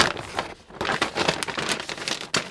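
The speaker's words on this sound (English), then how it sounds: "And I also have the plastic bag," A plastic bag rustles as a Foley prop close to the microphone, producing a dense, continuous crackling and crinkling with a few louder scrunches.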